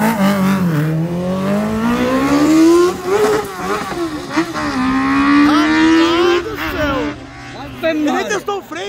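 A motorcycle engine revs hard during a Fan 600R versus Riva 600 street race, climbing and dropping in pitch through several gear shifts, loud and close, with people talking over it.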